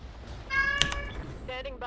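A cat meows during a Roguetech mech game session, with two or three short harmonic cries in quick succession heard close and clear over background game noise.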